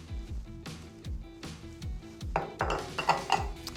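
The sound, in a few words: mixing dry ingredients (flour, baking soda) together in a bowl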